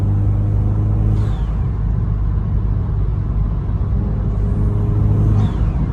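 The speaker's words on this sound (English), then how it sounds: "You can really hear that turbo sucking that air. It's spooling and everything." Inside the cabin of an Alfa Romeo Giulia fitted with an aftermarket intake, the turbocharged engine gives a loud, steady low rumble as it pulls, with airy whooshes of the turbo spooling and drawing air near the start and end.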